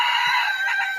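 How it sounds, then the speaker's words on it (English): Chickens give a loud, close, drawn-out squawking call with a brief dip in the middle, heard alone without talking. "I'm talking to your chickens"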